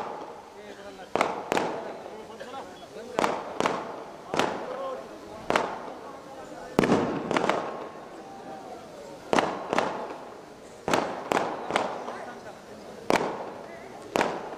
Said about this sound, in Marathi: एक फटाके बंद करा रे